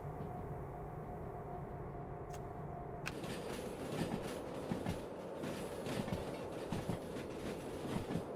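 A locomotive in the Derail Valley train simulator game pulls its train forward, with a steady low rumble that thickens after a few seconds into rhythmic clickety-clack and rail noise, continuous and fairly close.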